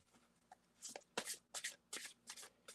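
A deck of cards is shuffled several times in quick bursts, close and crisp riffles separated by brief pauses, quiet and without talk.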